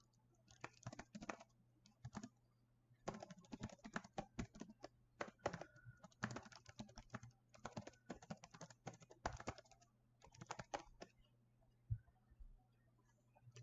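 Quiet, close computer keyboard typing in rapid irregular bursts of light clicks with brief pauses, no voices.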